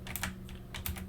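Quick keystrokes on a computer keyboard, a short burst of a few soft clicks close by, pausing briefly mid-way before another cluster of taps, quiet and alone.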